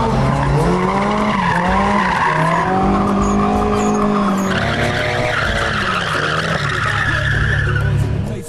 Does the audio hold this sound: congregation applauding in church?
no